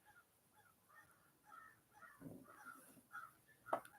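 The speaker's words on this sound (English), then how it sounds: "Probably hear the birds squawking outside." Birds squawk faintly outdoors in a run of distant, harsh, crow-like calls spread across a few seconds, with one sharper cry near the end.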